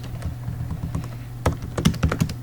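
Typing on a computer keyboard, a run of close, sharp key taps that grows faster and louder toward the end, alone without talk.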